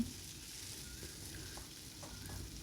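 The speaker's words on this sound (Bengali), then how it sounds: "পেঁয়াজটা আর টমেটোটা একটু বেশ ভালো করে ভাজা ভাজা হলে" Onion and tomato fry in a pan for an egg curry, a steady, low sizzle holding evenly throughout, with faint scrapes now and then and no voices.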